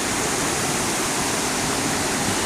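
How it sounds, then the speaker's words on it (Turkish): The Oylat Waterfall in Turkey in summer gives a dense, steady roar of rushing water, loud and close with no break throughout. "Burası Oylat Şelalesi."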